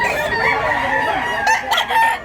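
Gamefowl roosters crow loudly and cluck in close, overlapping calls at a busy farm in Tabunok, Cebu, a steady din of birds with no talk over it.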